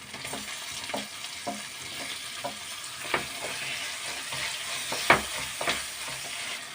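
Chicken parts curry frying in a pan as tomato is added, with a steady close sizzle broken by scattered clicks and knocks of stirring and a sharper clatter near the end; no one speaks.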